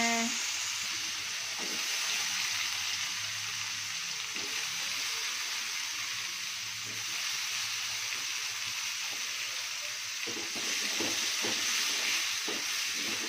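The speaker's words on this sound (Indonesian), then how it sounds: "Ini bumbunya cuman ada bawang merah, bawang putih sama cabai aja, kita tumis. Kita masukin buncisnya." Green beans stir-fried with shallot, garlic and chili in a pan, a steady loud sizzle with intermittent scraping and stirring clatter throughout.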